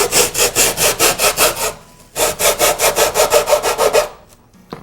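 A thin hacksaw blade cuts through a mule deer's nose septum in quick, rhythmic back-and-forth strokes, a close, loud rasping run of about ten strokes, a brief pause, then another steady burst.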